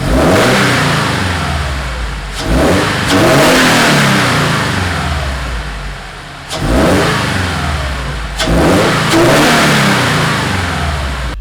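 A car fitted with a cold air intake revs hard in repeated bursts, loud and close, with the engine dropping back briefly between each pull.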